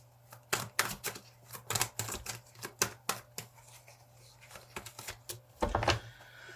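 Tarot cards are shuffled by hand in a quiet room, a run of crisp riffling snaps and flutters in uneven bursts, close to the microphone, with no talking.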